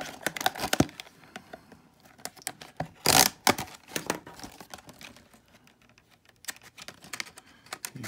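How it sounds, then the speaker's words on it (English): A 2015 Marvel Legends Mark I Iron Man 3.75-inch figure is cut free of its packaging: close crinkling and crumpling of plastic and cardboard, quick snips and a loud tearing burst midway, then scattered lighter rustles. "So I'm going to go ahead and cut this bad boy out of his packaging."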